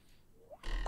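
A frog croaking in a video game, a short rising croak followed by a louder burst of game noise toward the end.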